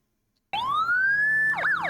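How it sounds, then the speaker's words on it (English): A Unitrol police siren on a 1980-1982 police car starts abruptly after a short silence, a long rising wail that switches to rapid yelping sweeps, loud and close. "Very annoying siren."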